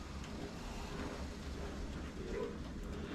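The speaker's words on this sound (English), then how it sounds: "Sorry for the background noise, that's the dishwasher." A steady low mechanical hum and watery churning from a dishwasher running in the background, constant throughout with no speech.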